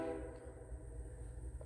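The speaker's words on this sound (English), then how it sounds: "Sorry about that train." A train passes close by with a long, loud horn blast over the deep rumble of rolling cars.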